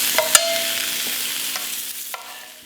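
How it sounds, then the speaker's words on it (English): Peppers sizzle in a skillet beside eggplant for Armenian smbukov aylazan, making a steady close hiss broken by a few sharp clicks and utensil taps; no voices. "I'm gonna put some peppers on the other side since I have a space in my"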